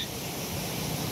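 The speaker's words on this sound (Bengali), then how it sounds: "আজকে বাতাসটা প্রচুর পরিমাণে" Strong wind blowing outdoors during rain makes a steady, loud, broadband rush with no distinct breaks across the short stretch.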